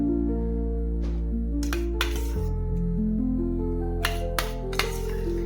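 Set homemade curd being scooped into a bowl, with a few sharp clinks of a spoon against the dish standing out over a steady low hum.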